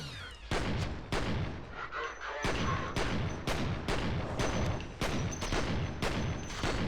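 Repeated gunfire in the first-person shooter game F.E.A.R., loud bursts and sharp shots in rapid succession, about a dozen blasts over a few seconds with brief gaps between volleys.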